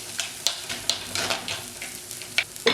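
Black peppercorns roasting in a hot pan for a Kerala shark curry masala, giving soft continuous sizzling with a series of sharp crackles and stirring scrapes, close and fairly quiet.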